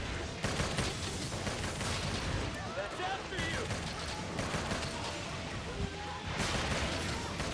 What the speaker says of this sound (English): If you get caught by those explosions, it inflicts blast and hellfire against you